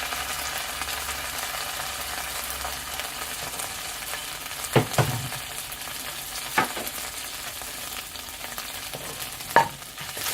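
Tomato paste frying and being stirred in a pan while cooking a homemade pizza sauce, a steady soft sizzle with a few sharp clacks of the spoon against the pan.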